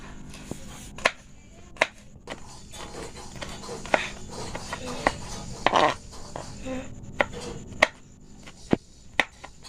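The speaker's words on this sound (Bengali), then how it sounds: "এই দুটো লঙ্কাকে একদম ছোট ছোট পিস করে কুচিয়ে নেব" A knife chops two green chillies into small pieces on a board, sharp isolated knocks spaced about a second apart over a quiet background, with a voice speaking faintly in between.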